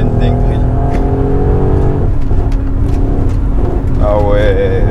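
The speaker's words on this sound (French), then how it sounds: "petite accélération quand même, pour nous mettre dans le bain tout de suite" A Mercedes-AMG GLE 63 S with 580 horsepower accelerates hard, its loud engine roaring and rising in pitch through the gears, ending in a sharp climbing rev near the end.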